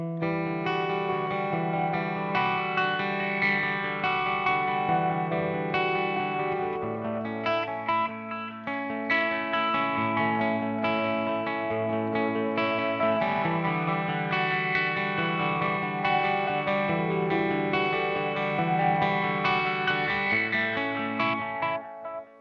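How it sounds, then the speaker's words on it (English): An Eventide H90 set to a sweep echo and phaser patch colours an electric guitar, which plays continuously with swirling, modulated sustained chords and repeating echoes, loud and dense throughout with no talking. "it gives me pretty close to the Line 6 sweep echo, and it's does the thing I like, the swirliness of the phase type thing"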